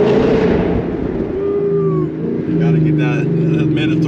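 A 2018 Ford Mustang GT 5.0 with Performance Pack accelerates hard, a loud continuous engine roar rising in pitch with gear changes throughout, heard close from inside the car, with voices in the background.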